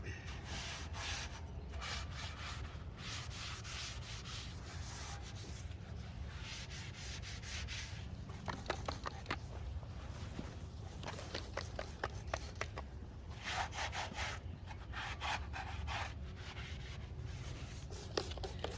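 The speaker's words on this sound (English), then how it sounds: "I'm gonna still scuff and shoot this anyway" A car chassis is scuffed by hand with an abrasive pad before painting outdoors, making repeated close, raspy rubbing strokes in irregular bursts over steady background noise.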